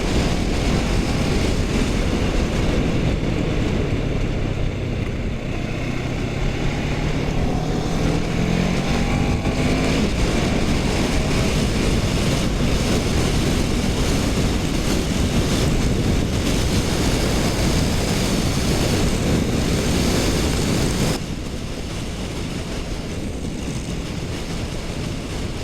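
Kawasaki Z900 motorcycle cruising on a motorway, a loud continuous engine and wind roar with steady broadband rumble throughout, no talking, easing slightly near the end.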